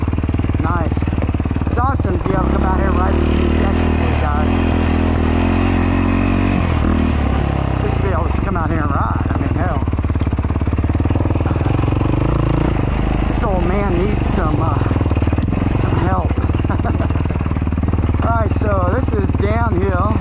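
Dirt bike ridden on a new section of a motocross track at a hare scramble course, engine droning steadily and revving up and down throughout while someone talks over it.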